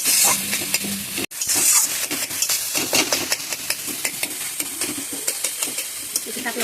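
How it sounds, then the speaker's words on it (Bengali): Vegetables being sautéed for a vegetarian dish in a pan, with a steady sizzle of frying broken by repeated scraping and stirring strokes of a utensil against the pan, close and fairly loud with no talking. "এবার এটা খুব ভালোভাবে সাতলাবো"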